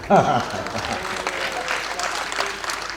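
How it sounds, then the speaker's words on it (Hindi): Applause from a crowd at a Holi event at Pant Nagar University, a burst of clapping that carries on steadily for a few seconds, with a voice briefly at the start. "अभी अभी जो मेरे स्वागत में आपने जितनी घनघोर तालियां बजाई"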